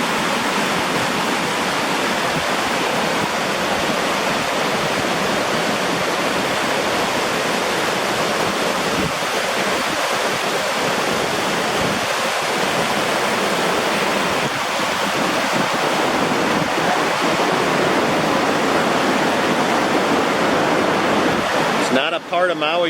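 River water on Maui rushes continuously, a loud, dense broadband roar that holds steady throughout, with no voices audible over it.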